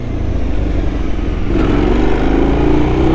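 A KTM Duke 990 motorcycle on the move, a steady loud engine drone with wind rush that swells as the rider gets on the throttle partway through.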